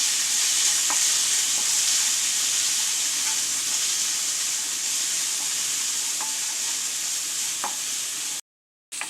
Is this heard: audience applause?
no